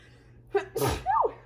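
A single close, sharp sneeze with a quick intake of breath before it, in a quiet room.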